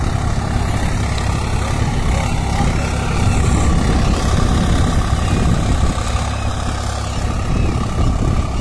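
A Swaraj 744 XT tractor with a 9-tine cultivator runs at about 1200–1300 RPM in a field during sowing, a loud, steady, close engine drone that continues without a break.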